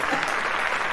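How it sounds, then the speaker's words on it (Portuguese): Applause at a Christian podcast recording, a brief burst of steady, dense clapping at moderate volume filling the whole moment without pause. "Só faltava um aplauso aqui."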